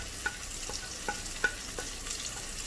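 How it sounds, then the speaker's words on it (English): Masala powders being stirred into frying tomato for a Chettinad prawn thokku: a soft, steady sizzle with several light scraping stir strokes at regular intervals, fairly quiet and close. "Give it a good stir"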